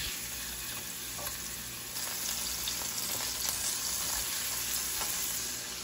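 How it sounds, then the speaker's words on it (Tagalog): Garlic and onion sautéing in hot oil in a pan for pork afritada, a steady close sizzle with occasional stirring scrapes, getting slightly louder partway through, no one speaking. "once na mainit na po yung mantika, magigisa na po tayo ng bawang at sibuyas"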